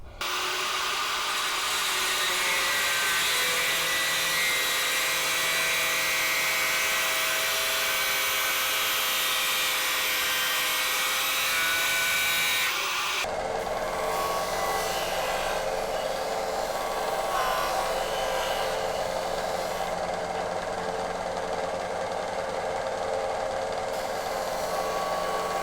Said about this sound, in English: I either need to cut it or grind it, just a little bit off